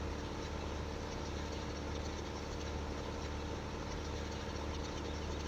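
Case IH T6 tractor with a small front loader in Farming Simulator 15, its engine giving a steady, dense droning rumble that holds at a constant level throughout, with no talk.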